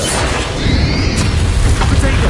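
Explosive spells going off in Hogwarts Legacy combat, a steady wall of loud booming blasts with bursts of crackle and whooshing magic, dense and continuous with game voice effects mixed in.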